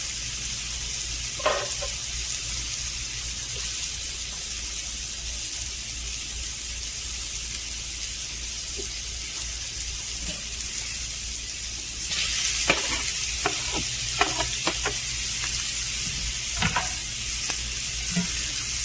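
Onions fry in a pan for smothered pork chops gravy, a steady close sizzle that runs throughout, with a burst of louder spatter and several scraping stirs in the second half.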